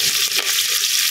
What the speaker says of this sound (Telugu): వెంటనే కరివేపాకు వేసేస్తున్నాను